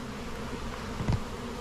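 Honey bees and drones buzz around an open beehive on a sunny Alaska summer day, a steady low insect drone running throughout with a brief louder swell as one bee passes close.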